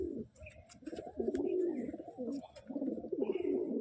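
Low, throaty coos from an Andhra pigeon roll out close by, repeated in short phrases with brief pauses between them.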